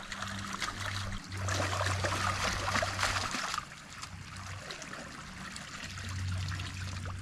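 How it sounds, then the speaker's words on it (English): Clay and light topsoil being rinsed from a gold pan on a new gold claim, a steady close trickle and slosh of water running for several seconds, louder early on, then quieter. "that's just rinsing off all of the, you know, clay and very light gravel, or very light topsoil"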